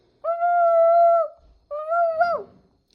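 A person imitates a dog with two drawn-out, tonal vocal calls separated by a short pause, the second bending downward at the end; close and clear, with no other sound.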